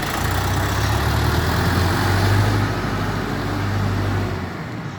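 A new tractor's engine idles nearby with a steady, loud low rumble that holds for several seconds before easing slightly at the end.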